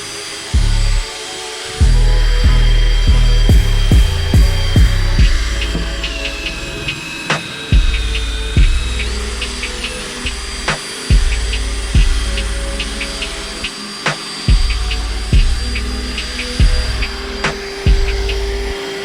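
A polishing tool buffs faded headlights on a 1999 3000GT VR-4 with a Meguiar's restoration kit, giving a loud whirring motor hum that rises and dips in repeated passes, with squeaks and clicks over it.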